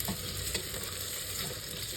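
Onions sizzle steadily in hot oil in a pan, a close, dense frying hiss with faint stirring scrapes running throughout.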